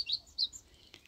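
Small birds chirp in short, bright bursts, two clear calls close together followed by a fainter tweet, heard outdoors near a garden feeding spot with no talk.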